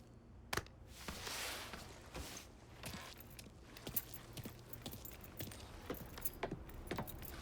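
Car keys jangle in a Mafia III game scene, a series of sharp metallic clinks and rattles, close and fairly quiet, repeating irregularly over several seconds.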